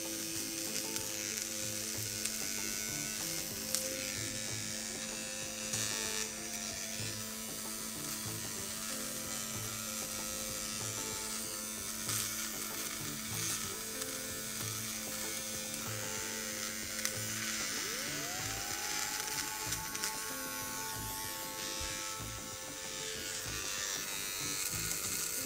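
A small eyebrow epilator buzzes steadily against skin for a long, unbroken stretch, a close, gritty electric whirr with faint scratchy texture and a brief shift in pitch near the end, no voices.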